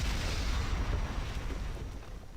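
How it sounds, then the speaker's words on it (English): A deep, rumbling explosion with booming low-end reverberation rolls on and slowly fades, a sound effect from the game Blue Archive. "remember what I said about that explosion?"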